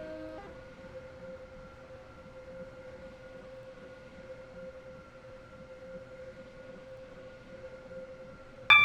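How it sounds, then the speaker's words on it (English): A passenger train in the Roblox game Stepford County Railway pulls into a terminus station, a faint steady hum with a sustained tonal whine from the train, ending in a sudden louder burst. "The train now approaching platform 3 terminates here."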